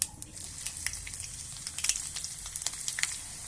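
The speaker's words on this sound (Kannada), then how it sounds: "ಈಗ ಹಸಿಮೆಣಸಿನಕಾಯಿ ಫ್ರೈ ಆಗಿದೆ" Green chillies fry in hot oil with mustard seeds in a stovetop pan, giving a steady close sizzle broken by scattered sharp crackles and pops, with no talking.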